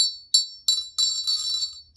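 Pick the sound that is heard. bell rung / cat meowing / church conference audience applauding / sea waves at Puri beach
bell rung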